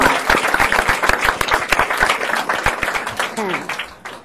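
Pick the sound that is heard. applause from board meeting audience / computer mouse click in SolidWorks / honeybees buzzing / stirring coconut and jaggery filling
applause from board meeting audience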